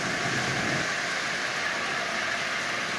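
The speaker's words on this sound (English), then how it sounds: "running a DC locomotive on AC simply by using a full wave" A Lionel General model locomotive runs on AC through a full-wave bridge rectifier feeding its DC motor, giving a loud, steady whirring drone with a constant rumble and no pauses.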